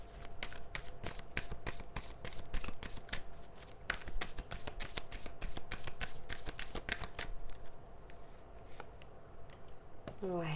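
A deck of tarot cards shuffled close up in quick, steady flicking riffles that keep a crisp rapid rhythm for several seconds, then thin out into a few softer taps, with faint talk underneath.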